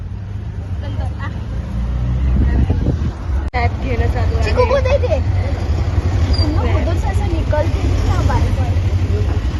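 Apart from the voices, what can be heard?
auto rickshaw ride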